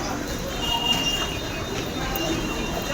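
A commuter train in Navi Mumbai rumbles along steadily with a continuous roar of wheels on rails and faint squealing, heard from inside the moving carriage.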